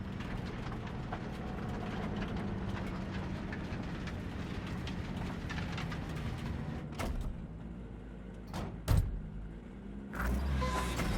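A train in the Cyberpunk 2077 video game rumbles steadily along, a dense rolling mechanical drone with a few sharp clanks and thumps toward the end, no speech.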